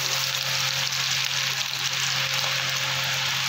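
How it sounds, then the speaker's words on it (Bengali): Chopped onion, garlic and green chilli fry in hot oil, giving a loud, continuous hiss with a faint steady hum beneath it. "এবার সাথে সাথে দিয়ে দেবো কুচানো পেঁয়াজ।"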